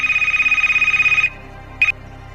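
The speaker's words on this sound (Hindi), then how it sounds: "उसी वक्त आपके फोन की घंटी बजती है।" A phone rings with a fast warbling electronic trill for about a second, then a brief second burst, loud and close.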